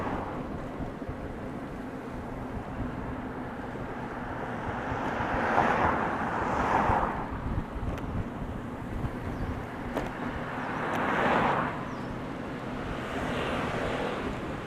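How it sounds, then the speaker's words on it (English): Wind blows steadily in a low, rushing roar, swelling into louder gusts a couple of times, with no voices. "Getting kind of windy."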